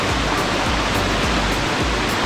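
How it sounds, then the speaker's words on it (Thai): A small waterfall at Lan Sang National Park in Tak, Thailand, produces a steady, loud, close rush of falling and splashing water with no talking over it. "ที่นี่อาจจะน้ำตกอาจจะไม่ได้ใหญ่มากแต่ถามว่าฟังเสียงมันก็รู้สึกผ่อนคลายได้เหมือนกันนะคะ"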